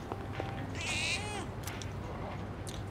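A cat meows once in the video game Persona 3 Reload, a short plaintive call standing out over quiet game ambience, with faint scattered sounds around it.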